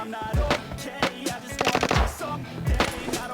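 Gunfire in a PUBG-style battle royale game, rapid automatic bursts and single shots over a busy background of in-game effects, loud and close.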